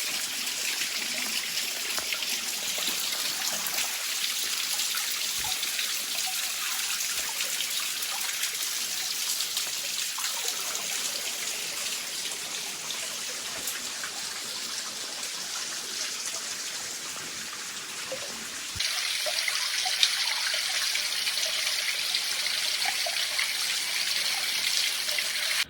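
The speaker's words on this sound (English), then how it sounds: "You can definitely come here and just enjoy the sound of the waterfall." A waterfall at Holywell Park in St. Andrew, Jamaica, pours with a steady, close rush of water that holds for about twenty-five seconds, turning slightly brighter and louder near the end, with no voices.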